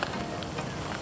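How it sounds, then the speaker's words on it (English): Rain patters steadily outdoors on a cliff-top walk in Cheddar Gorge, a dense, even hiss of drops close around. "Here's the rain."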